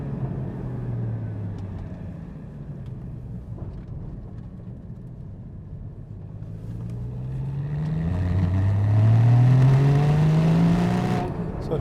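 A Porsche 981 GT4 engine on a test drive, heard from inside: a steady low drone that climbs in pitch as the car accelerates, swelling louder near the end before easing off.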